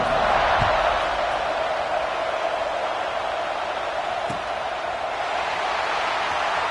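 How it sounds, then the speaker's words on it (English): Stadium crowd in the College Football 26 video game, a steady broadband roar of fans buzzing after a score, moderately loud and continuous with a few faint thuds. "this crowd is buzzing after that last score"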